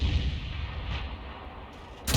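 An M44 self-propelled artillery piece fires a shell in a tank video game, a heavy low boom opening the clip that rolls into a long fading rumble, with a second sharp crack starting at the very end; no voices.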